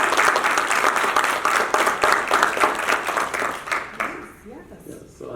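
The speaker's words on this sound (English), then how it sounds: "give them a round of applause for joining us today." An audience gives a steady round of applause, dense clapping that holds for several seconds and then tapers off, with a voice speaking over it.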